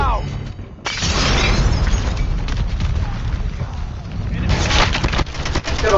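Rapid automatic fire from a deployed sentry gun in a team video game shooter, sustained bursts of loud gunfire with brief gaps, mixed with game noise and spoken callouts.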